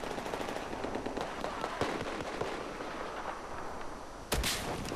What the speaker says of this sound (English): Oh, okay, it's a grenade launcher.